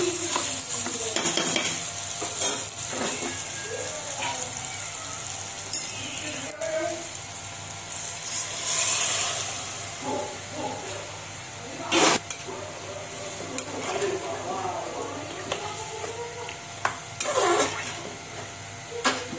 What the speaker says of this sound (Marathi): आता याचं आपण गरम पाणी टाकूया.